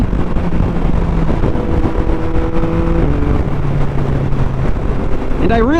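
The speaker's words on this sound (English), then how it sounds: "I really hope the microphone is capturing this intake noise in all of its glory" Yamaha MT-09 SP motorcycle with a flashed ECU, its intake drone rising and falling through the gears while riding, loud and close over heavy wind buffeting, with a rider talking over it.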